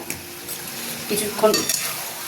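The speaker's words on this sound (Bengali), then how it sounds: "এবার এঁচোড় আলুটা দিয়ে কষবো।" Jackfruit and potato stir-fry in a pan with softly sizzling oil, broken by a few brief scrapes and clatters of a spatula against the pan.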